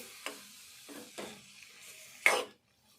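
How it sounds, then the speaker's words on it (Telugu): Pieces being stir-fried in a pan: a few sharp scraping stirs and clinks against the pan over a faint sizzle, close by, then silence at the end. "ఇవైతే వేపుకుందాము."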